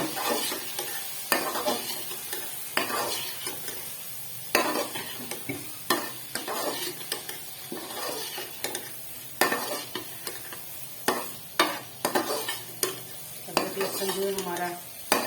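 Whole spices (green and black cardamom, cinnamon, cumin, cloves) and garlic fry in oil for kofta curry, stirred in a pan: steady close sizzle broken by repeated scraping stirring strokes, with no talking.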